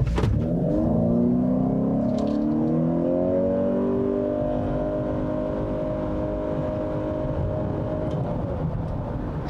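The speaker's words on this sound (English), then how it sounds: "So let's try doing an acceleration from a stop here." A 2020 Honda CR-V Hybrid AWD SUV with a CVT accelerates steadily from a stop, its engine hum rising smoothly in pitch without any gear shifts, loud and close.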